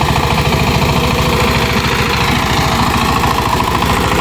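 An ACI 20 hp power tiller engine ploughs a field, chugging loudly and steadily with a rapid, even pulse from start to finish, with no voices.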